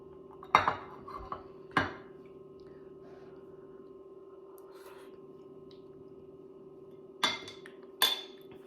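A heavy pot of creamy potato soup with bacon is set down in a kitchen, giving a few sharp metallic clanks and clinks spread over several seconds against a steady low hum, fairly faint.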